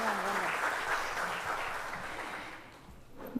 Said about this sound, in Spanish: El fuerte aplauso para recibirlas